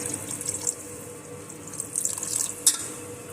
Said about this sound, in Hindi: इसके अंदर थोड़ा सा पानी डालेंगे